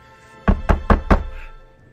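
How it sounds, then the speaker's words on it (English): Four sharp, evenly spaced knocks strike a door, close and loud, followed by a short fading resonance and quiet. "he takes you to one of the doors and he starts knocking."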